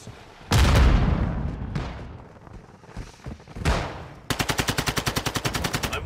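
Gunfire in the video game Call of Duty: Modern Warfare II: a loud opening blast and scattered heavy shots, then a rapid, evenly spaced burst of automatic fire close by.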